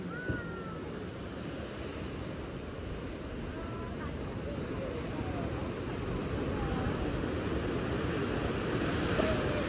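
Sea waves at Daepo Jusangjeolli Cliff on Jeju Island, South Korea, make a continuous, fairly distant surf roar that slowly builds, with faint voices now and then.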